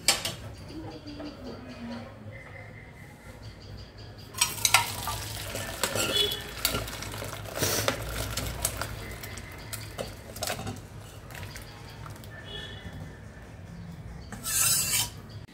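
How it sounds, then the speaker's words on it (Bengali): Ghee being stirred into lentil dal with gourd in a cooking pot: repeated scraping and rubbing strokes of a spoon against the pot, with a soft sizzle, louder in the middle stretch and again near the end. "নামানোর আগে একটু ঘি দিয়ে মিশিয়ে নিলাম"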